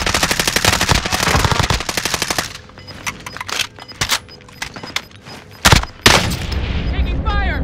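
Gunfire from Call of Duty Warzone, played on Xbox Series X: long loud machine-gun bursts, then scattered single shots and booms, with game voices calling out over the fire.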